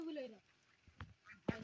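Ducks quacking nearby, a few short nasal calls scattered across a brief stretch with a sharper, louder quack near the end, faint voices in the background.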